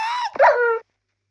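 A dog gives a high, drawn-out whimpering yelp followed by a short bark-like yip that fades into a whine, close and loud, then silence.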